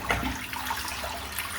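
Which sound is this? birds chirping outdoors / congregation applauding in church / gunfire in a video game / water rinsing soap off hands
water rinsing soap off hands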